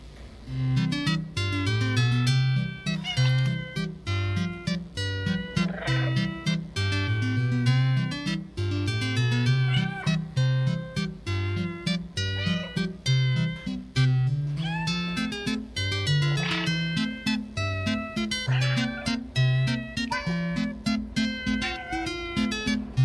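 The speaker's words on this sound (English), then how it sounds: "I wish I could spam the meowing a bit more." In the video game Stray, a cat meows over and over in rapid, insistent bursts, loud and close for the whole stretch with no talk.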